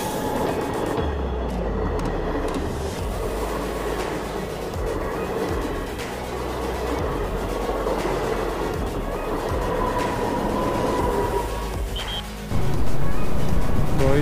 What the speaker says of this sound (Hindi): ये सामने से ट्रेन आ रही है, तो यहाँ पे डीजल की ट्रेन चलती है